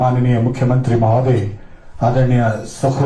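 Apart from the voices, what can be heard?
None of the usual background noises is heard.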